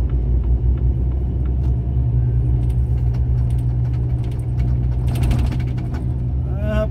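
A vehicle engine pulls uphill toward the highway on the Serra descent road to Santos, a loud steady low rumble with some rattling and clicking from the cab.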